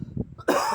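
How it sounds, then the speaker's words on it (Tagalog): A single short cough from a person, abrupt and close, following a few soft murmured sounds. "Inuubo tayo."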